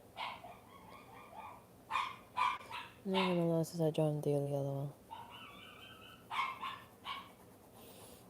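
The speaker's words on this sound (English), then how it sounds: "I'm gonna take out the dog that's always crying" A dog whines and barks indoors, with a run of sharp yips and a longer whining cry in the middle, fairly close, while a person talks quietly in between.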